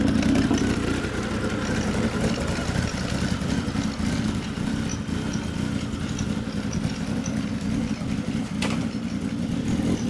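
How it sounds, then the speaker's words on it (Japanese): A 2003 Honda CB1300 Super Four SC54 fitted with a Yoshimura exhaust idles steadily nearby, a continuous deep engine burble with one brief sharp click near the end. "そのエンジン音聞かせてもらえますか。"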